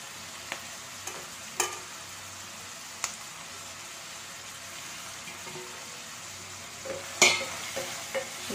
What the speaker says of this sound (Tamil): புதினா இலை கொத்தமல்லி இலை கருவேப்பிலை பச்சை மிளகாய் போடுறேன்